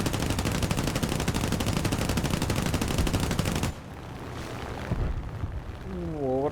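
Sustained rapid automatic gunfire from a World War 2 video game rattles loudly for several seconds, then cuts off, leaving quieter battle noise and a few lighter shots with a descending whine near the end.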